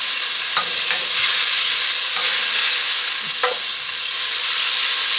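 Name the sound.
butter sizzling as it melts in a pot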